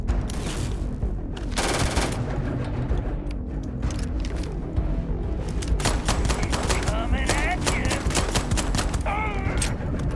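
Video game gunfire in Starfield, loud rapid bursts of shots and sharp cracks scattered through a dense, busy mix of effects and music-like tones.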